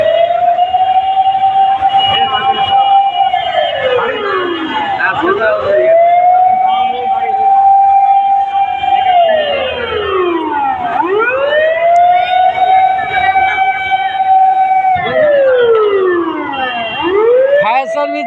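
Police and fire service sirens at a building fire wail loudly and continuously, rising and falling in long repeated sweeps with several overlapping tones, while people talk underneath.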